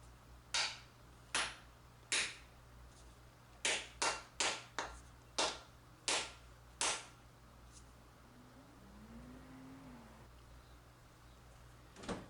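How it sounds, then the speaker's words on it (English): A hammer head is driven onto a wooden handle with about ten sharp, separate knocks in uneven bursts, close and fairly quiet over a low hum, followed by a short faint rubbing sound. "stick the head on the handle, beat it into place"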